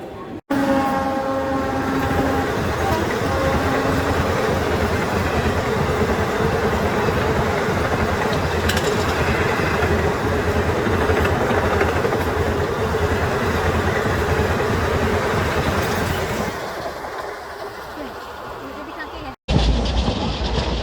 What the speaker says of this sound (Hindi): ऐसा लगता है ये नॉन प्रायोरिटी ट्रेन है, क्योंकि अब ये रेवाड़ी में ही खड़ी हो गई आकर के